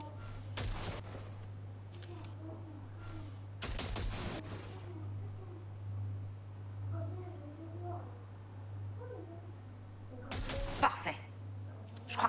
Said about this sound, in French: Une rafale plus longue.